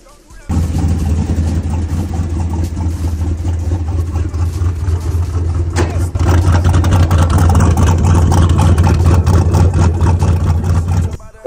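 A single cab truck running an LQ9 408 stroker V8 with a Precision 80 mm turbo idles loud and steady up close, its deep rumble stepping up a little partway through as the revs rise.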